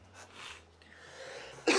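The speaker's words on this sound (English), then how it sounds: "I apologize for the coughing." A single sharp, loud cough bursts out near the end, after a stretch of quiet breathing.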